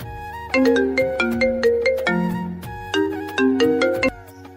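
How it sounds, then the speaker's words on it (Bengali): A mobile phone ringtone plays a bright, chiming melody of quick repeating notes, loud and close, with no one talking. "এমন সময় কে জানি ডক্টরের মোবাইলে ফোন দিল।"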